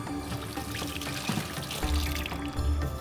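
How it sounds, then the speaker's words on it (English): Hands being washed under a running kitchen tap while cooking shahi biryani: a continuous splashing stream of water, close and steady, with a fuller gush in the second half. "before that, we should wash our hands"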